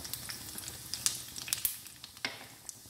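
Cumin seeds, one teaspoon, dropped into hot ghee for a dal tadka, crackling and sizzling in a dense, bright hiss with quick popping spits, close and alone.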